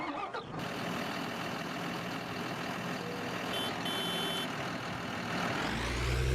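Volvo R-100E dumper truck engine in Farming Simulator 19, a steady heavy diesel drone with a brief high beeping tone partway through, rising into a deeper, louder rumble at the end.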